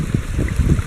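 Water rushes through a gold prospecting sluice fitted with a rubber mat, outdoors at Tyndrum, in a brief, close, steady burbling flow.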